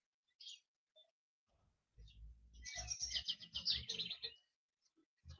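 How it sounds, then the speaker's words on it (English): Birds singing outdoors in the morning: a few sparse chirps, then a dense burst of trilling song for about two seconds, followed by scattered faint calls in otherwise quiet air. "And the birds are singing."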